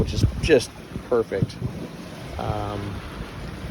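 A sailboat making about 6.5 to 7 knots under sail off the Bahamas, with steady wind buffeting the microphone and water rushing along the hull while someone talks briefly over it.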